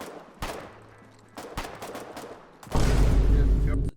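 Gunfire in the war video game Foxhole: a few sharp isolated shots, then a dense sustained burst of heavy firing near the end, with no talk over it.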